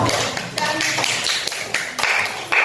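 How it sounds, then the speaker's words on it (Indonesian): A small classroom group claps for a student group, a few scattered, uneven claps with brief pauses between bursts, close and modest in volume. "Tolong beri tepuk tangan untuk kelompok."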